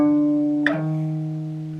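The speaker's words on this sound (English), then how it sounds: "So if I wanted to do, say, a half step slide, it would sound like this" A single plucked guitar note rings out, then slides smoothly up a half step midway and sustains, clear and close with no talking.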